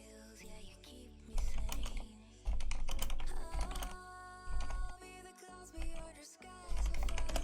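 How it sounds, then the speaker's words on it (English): Rapid clattering of computer keyboard keys in bursts with brief pauses, close and fairly loud, during planning for a stream. "so sorry for the typing, guys."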